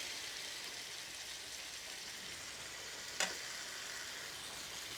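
Bombay potatoes fry in a pan over a moderate flame, giving a soft, steady sizzle throughout with one brief clink partway through, quiet and unaccompanied by talk.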